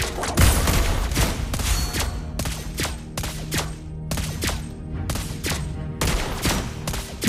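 Rapid bursts of video game gunfire from the player's weapon crack out in repeated volleys, each cluster of loud close shots separated by brief gaps, with no talking.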